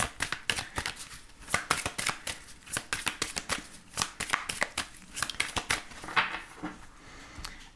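Crystal Visions tarot cards being shuffled by hand produce rapid bursts of crisp riffling and flicking, repeated in quick uneven runs, close and clear with no voices.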